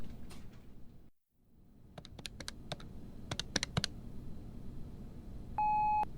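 Cell phone keypad being dialed: a run of short, sharp button taps with faint beeps, ending in a steady tone, fairly close in a quiet indoor room with no talking.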